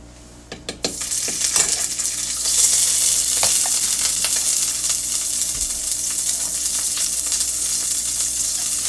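Butter melting and sizzling in a hot pan with country bacon drippings, a steady close crackle and hiss that swells after a few clinks of utensils at the start and continues unbroken.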